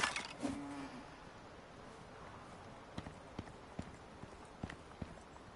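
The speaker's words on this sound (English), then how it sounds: "There's one of them nasty horses." Horse hooves clip-clopping in the survival video game Icarus on PS5, a run of light, evenly spaced hoof clops after a brief opening sound, moderately close with no talk.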